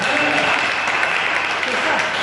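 A church congregation applauds at Zoe Tabernacle in Daloa, Côte d'Ivoire, a steady wash of clapping filling the whole moment, with voices murmuring faintly beneath it.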